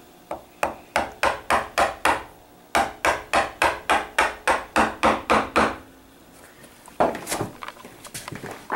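A hammer drives a chisel to split wood for a bookcase, striking in two runs of steady, evenly spaced sharp blows, about a dozen and then nine, loud and close, followed by a few scattered knocks.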